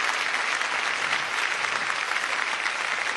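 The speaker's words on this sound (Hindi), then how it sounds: "बस इस हिसाब से ताली बजाओ" An audience claps together in sustained, even applause, a steady dense patter with no voices over it.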